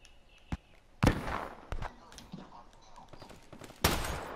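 Sharp, distant gunfire from Marshall 16 shotguns in Call of Duty Black Ops III team deathmatch: a few scattered blasts with a louder burst near the end, over faint game ambience.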